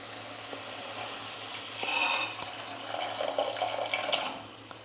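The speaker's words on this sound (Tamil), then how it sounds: "இப்போ புளி தண்ணி சேர்த்துக்கலாம்." Tamarind water pouring and splashing steadily into a pan for a few seconds, close by, with a faint low hum underneath, while making black pepper rasam.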